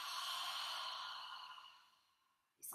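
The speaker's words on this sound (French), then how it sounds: "on expire tout de suite par la bouche" A long, steady exhale out through the mouth during a yoga breathing exercise, breathy and close, fading out over about two seconds before a short sharp intake of breath at the end.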